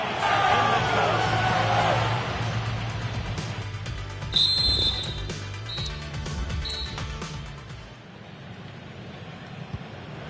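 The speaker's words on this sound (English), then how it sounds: "So the whistle then, they're at the halfway stage" A referee's whistle in a football video game match at the Bernabeu blows one long shrill blast for half time, then two shorter toots, over steady stadium crowd noise.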